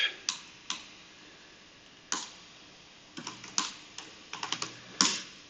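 Scattered keystrokes on a computer keyboard during a livestreamed coding session, a few isolated taps then quicker bursts of clicks, close and fairly quiet with no talking.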